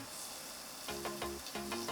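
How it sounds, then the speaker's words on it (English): Hot oil sizzles steadily with garlic in a pan, with a few brief clinks and scrapes of a utensil stirring partway through. "You can hear that delicious sizzle that we all love."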